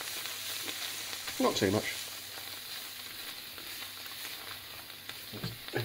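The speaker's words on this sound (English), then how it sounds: "what we want is these beans to cook down, get a bit mushy, smash them with the back of the spatula a little bit." Beans cook down in a hot pan and are smashed with the back of a spatula, giving a steady frying sizzle with a couple of short scraping, mashing bursts. A voice speaks briefly over it.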